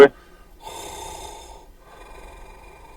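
A voice imitates loud, heavy breathing during a Tails of Equestria tabletop role-playing session: a sharp gasp, then two long, breathy exhalations, close and fairly loud, with quiet pauses between.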